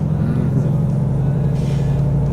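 A truck engine in American Truck Simulator roars steadily with a deep, continuous rumble, loud and close throughout, with no talking over it.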